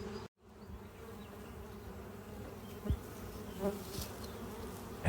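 Honeybee foragers buzz around the entrance of a hive in spring, a low steady drone with individual bees zipping close past in brief swells.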